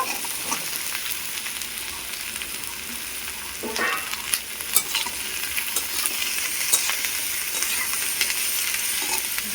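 Chopped pointed gourd frying with lightly browned garlic, onion and green chilli, a continuous close sizzle broken by a few louder crackles and stirring clatters, no speech.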